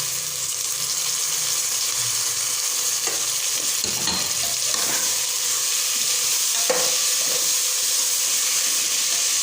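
Steady loud sizzling of tomatoes and green chillies frying in a hot pan, with occasional stirring scrapes and bursts of hissing steam throughout.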